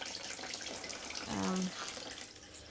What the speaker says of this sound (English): So just really give it a nice watering with my treated water with extra fertilization.